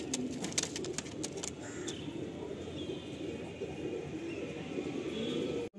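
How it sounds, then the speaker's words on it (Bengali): Tippler pigeons coo softly and continuously nearby, a low murmuring drone with a few sharp clicks near the start. "সেই পায়রা আমরা দেখছি"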